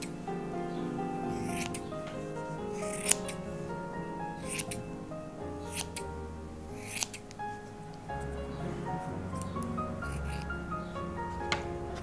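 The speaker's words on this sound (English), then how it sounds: "take your scissors and trim it" Scissors snip at the fringe of a needle-felted wool owl face, soft close crisp cuts coming at irregular intervals over quiet room hiss, with faint low handling noises between snips.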